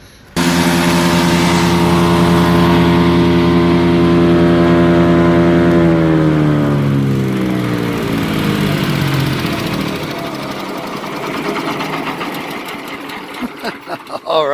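A Power King 14 HP chipper shredder with a Kohler Command Pro engine runs loud and steady, dips in pitch as it bogs down cutting hard white oak, then winds down, ending with a few sharp knocks.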